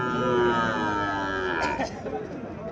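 A local desi cow and her young calf low at a busy cattle market, a few moos rising over a steady murmur of crowd chatter and nearby voices.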